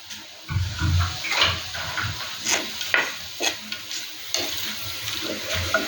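Dried prawns and small onions fry in a pan for a Kerala theeyal, a low sizzle broken by repeated scraping stirs of a spoon at an uneven rhythm, close by.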